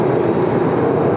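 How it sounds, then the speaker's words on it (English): A new Glasgow Subway train rumbles loud and steady, with a dense, continuous underground roar and no talking. "Here's our first glimpse of one of the brand new Glasgow Subway trains."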